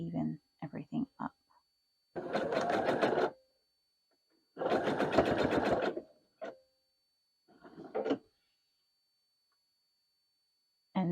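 A sewing machine stitching an apron runs in two bursts of steady, rapid needle chatter, with short starts and stops between them. Each burst lasts about a second or two, and the machine is close and moderately loud.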